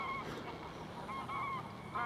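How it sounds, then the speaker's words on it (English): A flock of Brent geese honking beside a reservoir edge with reeds, repeated overlapping calls sounding fairly close over a steady outdoor background, no talking. "Brent, I believe, geese. Very noisy."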